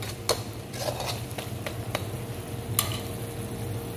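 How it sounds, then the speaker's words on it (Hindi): Kebabs frying in a pan during home cooking, a low constant sizzle broken by a few sharp metallic clinks and taps of utensils against cookware. "और जी यहाँ पे हो रहे हैं कबाब फ्राई"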